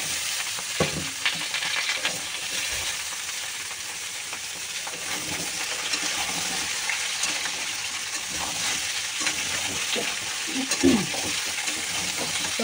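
Vegetables frying in oil with panch phoron, a continuous soft sizzle and hiss with occasional light stirring clicks, close and steady.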